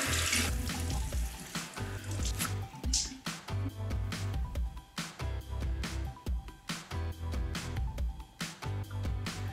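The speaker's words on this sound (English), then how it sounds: "Okay, I'm gonna rinse my face with cold water." Cold water runs from a sink tap while someone rinses their face, a steady continuous splash with irregular surges and dips as hands move through the stream, close and fairly loud, with no talking.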